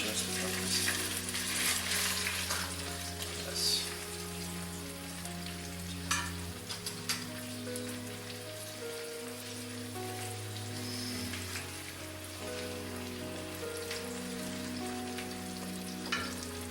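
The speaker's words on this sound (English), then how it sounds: "I got some of my spaghetti sauce that I'm heating back up" Homemade spaghetti sauce, reheated from frozen, sizzles and bubbles steadily in a pan on the stove, with occasional clinks and stirring sounds over a continuous low hum.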